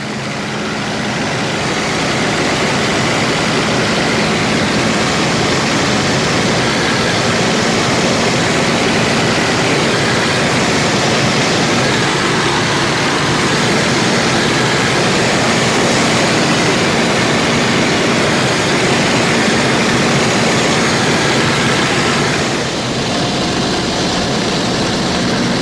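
A Spitfire flies an air display alongside a DH 115 Vampire: a loud, continuous roar of aircraft engine that holds steady throughout, close and dominant, with no voices.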